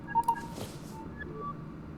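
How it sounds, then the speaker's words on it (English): Phone ringing during a call in the detective game Lacuna, a brief electronic tone with two quick, faint pulses near the start followed by a low steady background. "Oh, phone call."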